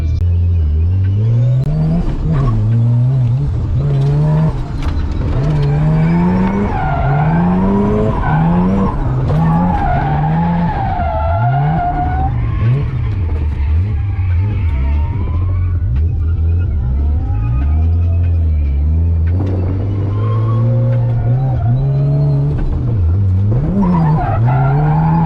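A Mazda RX-7 FC with no power steering is driven hard, its rotary engine droning loud and close while the tires skid and squeal repeatedly through the run, with no talking.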